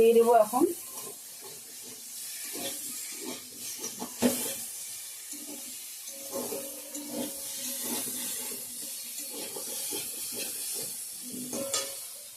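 Water is poured into a pan of simmering curry of potato, cauliflower and dried shrimp, giving a soft hiss and gentle bubbling under quiet background sounds, with a voice speaking at times.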